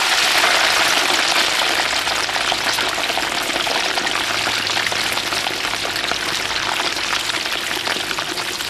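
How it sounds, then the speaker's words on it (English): Loud, dense sizzling and crackling of boned, filleted fish deep frying in very hot palm oil, continuous and close throughout. "lowers the boned and filleted fish into very hot palm oil"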